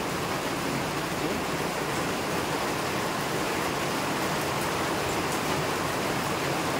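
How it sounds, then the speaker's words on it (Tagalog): Torrential night rain on a flooded house front in a Philippine province makes a continuous, even hiss and roar, unbroken and fairly loud, with no distinct talk. "Todo talagang ulan."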